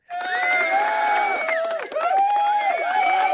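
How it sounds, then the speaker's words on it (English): Applause and crowd cheering from a big orange applause sound button on a music talk show burst out loud and continuous, with whoops and shouts over the clapping. "this is big orange applause button"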